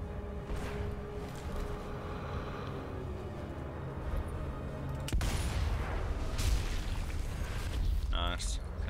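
A single sharp sniper rifle shot in the video game Sniper Elite V2 cuts through a steady background ambience, followed by a lingering rumble, with someone talking across the scene.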